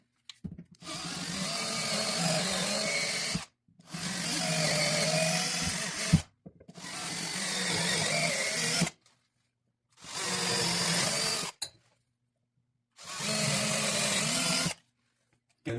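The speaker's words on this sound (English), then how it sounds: "we're going to use a 3/16 bit to chase the 9/64 bit with" A power drill with a 3/16 bit bores through aluminum in five separate bursts, each lasting two to three seconds with short silent gaps between them, loud and close with a steady whirring tone.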